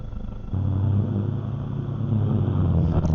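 Race car at Cadwell Park pulling away from its grid position at a JSCC race start, engine rumbling low and steady, then swelling louder and throatier as it revs and accelerates, close and alone.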